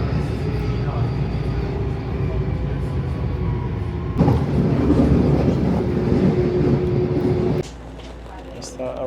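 A train in Germany pulls into a station, giving a steady low rumble and rattle that swells midway and then drops abruptly near the end, with no voices.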